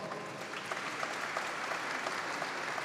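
Steady applause from an audience at a formal swearing-in ceremony, a dense wash of many hands clapping at an even level throughout, with no voices standing out.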